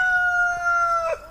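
A rooster from a backyard flock of thirteen chickens gives one clear, sustained crow that ends abruptly, loud and close with no talking.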